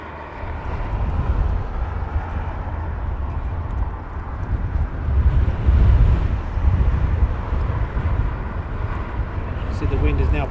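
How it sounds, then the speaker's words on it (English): Strong wind buffets the microphone outdoors at Heathrow Airport, a continuous low roaring rush with gusty swells that rises and falls throughout. "the wind is now picking up"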